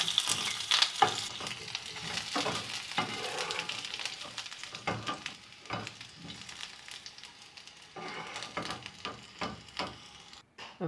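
Green pepper sautés in a hot pan, a soft continuous sizzle broken by repeated scraping stirs of a utensil, close and fairly quiet.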